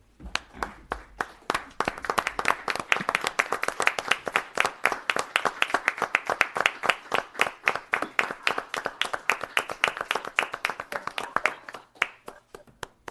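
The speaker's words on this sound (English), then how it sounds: "I'd like everyone to join me in a round of applause for their service." A round of applause at a town board meeting honoring four Vietnam veterans: crisp, close claps from a modest group, building into a sustained burst and tapering off near the end.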